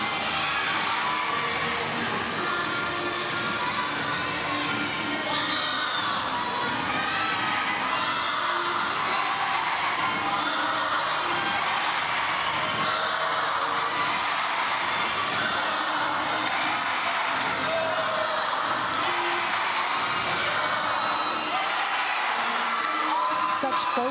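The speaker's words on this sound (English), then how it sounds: "especially with the crowd chanting Wolfpack behind her" A dense crowd at a Clemson versus NC State Wolfpack college gymnastics meet cheers, whoops and chants continuously, a loud, sustained wall of voices throughout.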